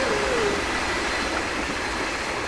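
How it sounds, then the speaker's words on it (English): A train heading toward Groningen out of Assen in Train Sim World 5 rushes past with a steady, loud rumbling roar and a brief falling tone at the start, no speech over it. "That was the train heading in the direction of Groningen"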